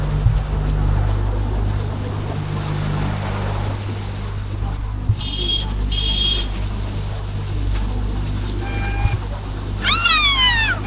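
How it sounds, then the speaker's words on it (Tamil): Water from an opened sluice gate rushes in a steady, loud continuous roar, with a few brief high squeaky chirps cutting through near the end. "ஒரு மதோட திறந்துட்டு தண்ணி எவ்வளோ போகுது."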